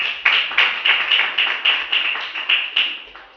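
A church congregation claps in acclamation for Jesus, sharp rhythmic claps landing in a steady beat of about three per second, close and loud with no talk over them.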